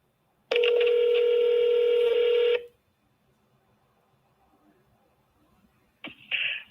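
Telephone dialing a call to a county sheriff's office: a loud, steady tone holds for about two seconds, falls quiet, then short, bright tones return near the end. No speech.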